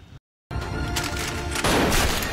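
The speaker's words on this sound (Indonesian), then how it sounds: "Hingga terjadi kekacauan mendengar suara tembakan tersebut" Gunfire from a drama film scene, a sharp report after a brief silent gap followed by sustained loud, dense bursts like a fusillade with booming low end, continuing steadily to the end.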